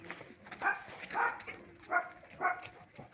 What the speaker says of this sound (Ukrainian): Там воно далі в кліточці наш Марсик гавкає поки що на карантині.